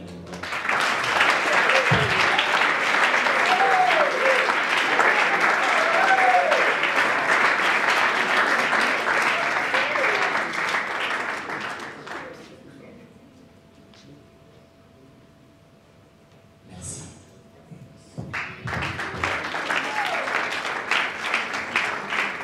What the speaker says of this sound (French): je vous redemande d'applaudir frénétiquement